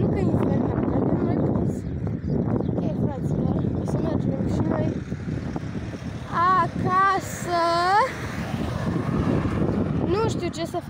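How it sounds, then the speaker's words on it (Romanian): Strong wind buffets an outdoor microphone throughout, a continuous low rumbling roar under a voice talking. "bate un vânt incredibil cu aia, nu pot să filmez un videoclip"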